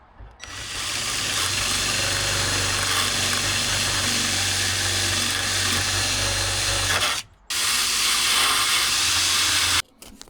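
A power tool with a flat sanding disc works over the body of a 1984 AE86 Corolla coupe, a loud continuous whirring hiss that runs steadily for about seven seconds, cuts out briefly, then resumes before stopping.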